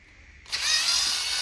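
Small electric driver unscrewing screws from the front bar of an RC car: a sudden close, steady high whir starting abruptly after a brief quiet moment.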